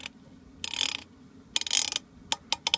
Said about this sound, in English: What I like doing first is sometimes bringing out the rear sight aperture